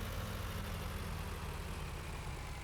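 A 6810 tractor engine runs in Farming Simulator 19, giving a steady, loud, low mechanical drone that holds even throughout with no talk.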